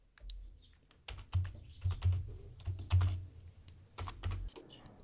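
Password typed on a computer keyboard: a brief burst of close key clicks followed by sparser, uneven taps, fairly loud in an otherwise quiet room.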